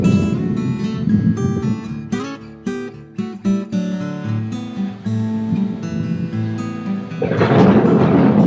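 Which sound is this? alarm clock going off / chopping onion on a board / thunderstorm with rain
thunderstorm with rain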